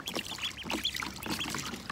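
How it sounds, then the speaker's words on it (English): Ducklings splash in shallow water in a backyard, sending out quick, close splashes and trickling water, mixed with soft, high peeps. "Splash them around."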